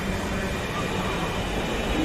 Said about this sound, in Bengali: এই আমি যে ট্রেনটি আসলাম সেই ট্রেনটি এখন চলে যাচ্ছে আগারগাঁও অভিমুখের দিকে।